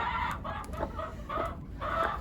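A broody hen clucks in a run of soft, repeated calls, close by and moderately quiet, with brief pauses between bursts.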